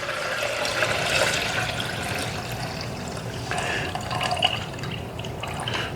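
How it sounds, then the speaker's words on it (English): Cloudy rice rinse water is poured from a pot into a container, a close, running splash that surges twice, with no talk. "I'm just going to pour it into this container over here"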